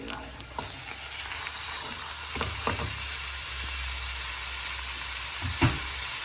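Minced chicken keema fries loudly in a pan, a broad continuous sizzle with a few scraping knocks from mixing partway through; nobody speaks.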